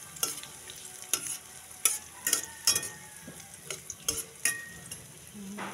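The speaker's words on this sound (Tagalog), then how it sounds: "Haluin lang po natin ang ating sibuyas" Onions and garlic fry in a pan while a utensil stirs them, sharp scraping strokes repeating every half second or so over a steady low sizzle.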